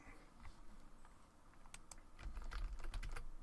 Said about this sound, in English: So if you want to add text to this, we'll just type something up.